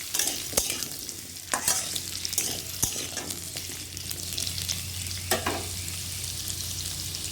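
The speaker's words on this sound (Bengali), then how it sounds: "ভালো করে ভেজে নেব।" Potatoes and papaya are stirred and fried in a pan, with a continuous oily sizzle and sharp spatula scrapes and clicks at irregular intervals, close and moderately loud, with no voices.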